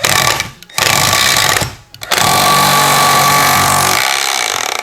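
A Milwaukee C12 PN cordless palm nailer hammers a nail into oak in rapid, buzzing bursts, with two short pauses between loud, close runs of pounding.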